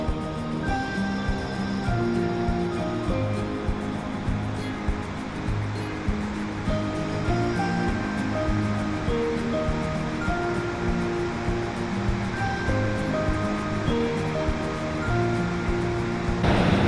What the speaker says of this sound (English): So we arrived at the first waterfall.